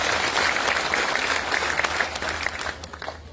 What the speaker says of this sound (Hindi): एक बार जोरदार तालियां आप उनके लिए भी बजा दीजिए।